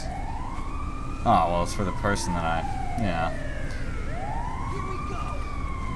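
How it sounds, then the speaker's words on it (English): An ambulance siren in the video game GTA 5 on PC, wailing in long rising and falling sweeps that run the whole way through, with someone talking over part of it. "Oh no, it's an ambulance."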